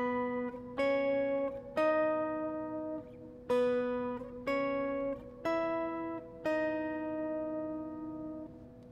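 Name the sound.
guitar playing split octaves, song intro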